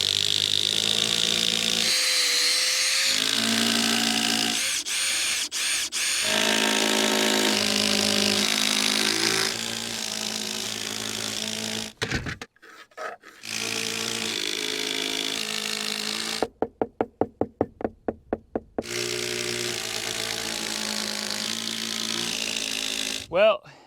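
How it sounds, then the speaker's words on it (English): A power tool drives 6-inch structural lag screws into wood on an off-grid building roof, with long sustained whirring runs at changing pitch broken by short pauses and a burst of rapid impact-like hammering, close and fairly loud. "We're using 6-inch structural lag screws to screw these in."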